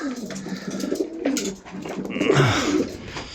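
Several Janssen pigeons coo continuously in low, throaty rolling calls that overlap one another, close by in a busy loft.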